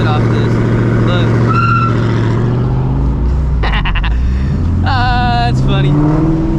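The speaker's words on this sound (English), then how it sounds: "he pulled up, literally revving like the scat packs do" A Ford Shelby GT350 sits nearby with its engine revving loudly, a deep, rising and falling growl that holds throughout while people talk over it.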